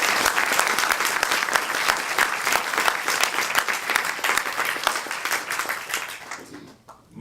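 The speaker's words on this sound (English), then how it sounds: "Let's have a round of applause for Marion Ryan." An audience at a 2014 Middlesex County district attorney debate series gives loud, continuous applause that holds strongly for several seconds, then tapers quickly and drops away near the end.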